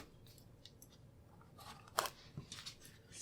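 Quilt fabric edge being trimmed along a ruler, soft faint cutting crunches with one sharper snip, close but quiet over low room noise.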